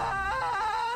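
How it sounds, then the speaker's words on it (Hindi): A woman's wailing, moaning cry in a Hindi horror story setting, a sustained tonal sob with wavering pitch, close and fairly loud, heard alone without speech. "ये किसकी रोने की आवाज है?"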